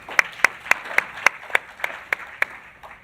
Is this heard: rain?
no